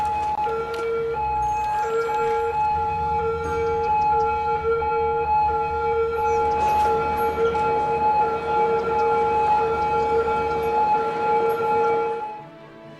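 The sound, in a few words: ambulance sirens in a video game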